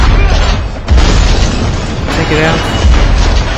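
Heavy shotgun blasts booming in the SpyHunter Nowhere To Run video game, loud and dense with a sharp onset near one second, under a player's talk.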